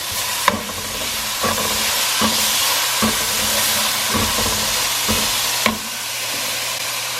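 Ginger garlic paste fries loudly in a pan for a Kerala chicken curry, a steady hiss of sizzling broken by periodic scraping taps as it is stirred around.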